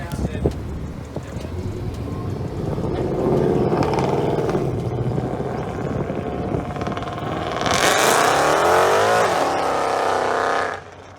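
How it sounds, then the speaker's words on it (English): A loud AMG car engine revs and roars close by, rising in pitch as it pulls out of a car meet in an underground garage, with voices murmuring underneath. "this car is extremely loud, so I'm wondering if he's going to do a pull out of the meet"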